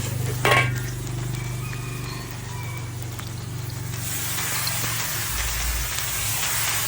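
Pad thai stir-frying in a pan with tofu, dried shrimp and pork cracklings, giving steady sizzling and spattering with a brief clatter near the start and a low hum running underneath.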